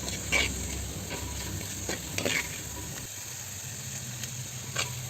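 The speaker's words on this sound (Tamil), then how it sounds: "இது தக்காளியை நல்லா வதக்கணும் நல்லா மசிஞ்சு நல்லா வதங்கின பிறகு தூள் ஆட் பண்ணிக்கலாம்" Tomatoes sautéing in a pan for country chicken rasam: a steady sizzle broken by scraping stirs at irregular intervals, close and moderately quiet, with no voices.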